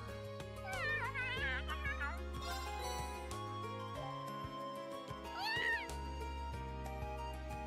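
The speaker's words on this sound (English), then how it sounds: "Oh, there's the cat." A cat meows in the video game The Legend of Heroes: Trails of Cold Steel, with short rising cries rising over steady, loud game music.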